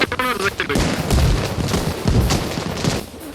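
Grenades go off in a battle in the video game Arma Reforger, a run of loud, close, heavy booms and bursts with gunfire mixed in, voices talking over the blasts.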